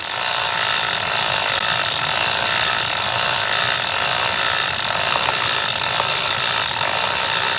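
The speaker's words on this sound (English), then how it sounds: "the bristles in the park tool chain cleaner are just working their way into the links of the chain" A Park Tool chain cleaner scrubs a bike chain as it is pedaled backwards, its bristles working into the links. It makes a continuous loud whirring, gritty rattle that holds steady throughout, with no voices.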